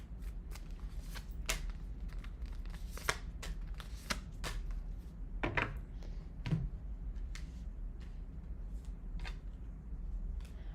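Tarot cards being shuffled by hand, a run of sharp crisp riffles and taps spread irregularly over several seconds, close and fairly quiet, with no speech.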